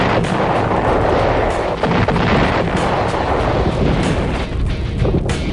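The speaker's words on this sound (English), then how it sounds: "the isolated base endures constant bombardment" Artillery bombardment of the isolated Khe Sanh Marine base in Vietnam, 1968: loud, dense, rumbling explosions and booms overlapping continuously with no pause.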